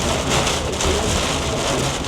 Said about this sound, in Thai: โหแต่วันนี้ฝนตกหนักมากจริงนะครับ